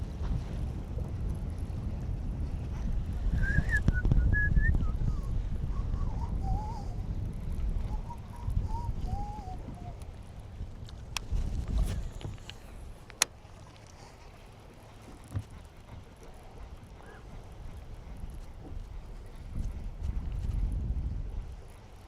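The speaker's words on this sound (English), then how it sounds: "Gosh, so windy." Gusty wind buffets the microphone outdoors while bass fishing with hard plastic lures, rumbling in surges that swell and ease, with a few chirping bird calls early on and scattered clicks of tackle.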